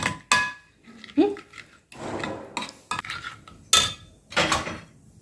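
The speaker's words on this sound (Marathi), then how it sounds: "मिक्स करून घेऊया सगळं डाळ दह्यात मस्त छान मिक्स करून घ्या" A spoon clinks and scrapes against a bowl while gram flour is mixed into curd, giving several sharp, close taps and rubs with short pauses between them.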